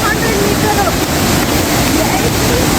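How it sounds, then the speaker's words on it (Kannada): Roaring water at Elneer Falls waterfall forms a loud, unbroken wash of noise, with faint voices barely surfacing under it. "ಅಲ್ಲೇ ಹಾಕಿದಾರಲ್ಲ ಎಳ್ನೀರ್ ಫಾಲ್ಸ್ ಟೂ ಹಂಡ್ರೆಡ್ ಮೀಟರ್ ಅಂತ ಓ ಮೈ ಗಾಡ್ ಸೌಂಡ್ ನೋಡು"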